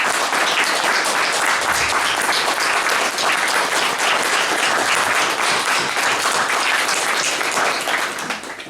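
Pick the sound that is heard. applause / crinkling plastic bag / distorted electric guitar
applause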